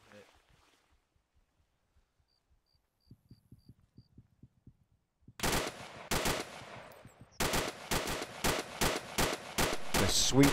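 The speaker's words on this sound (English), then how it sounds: "The sweet sound of a 50 cal firing in the distance, eh?" .50 caliber machine gun fire in a video game, heard first as faint distant bursts of rapid thumps, then a loud, close run of sharp repeated shots in quick bursts.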